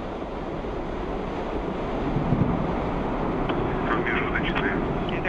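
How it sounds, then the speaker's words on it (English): A Soyuz rocket launch carrying the Expedition 28 crew, heard as a broad, steady roar that builds slightly and holds, with a voice speaking faintly over it. "And liftoff of the Soyuz 27 rocket and spacecraft"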